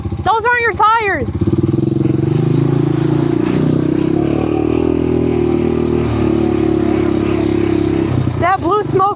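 A four-wheeler engine runs close and loud with a steady, rough drone that holds throughout, as people shout urgently at the start and end.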